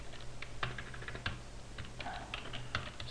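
Typing on a computer keyboard, an irregular run of quiet, close key clicks with short pauses, heard alone.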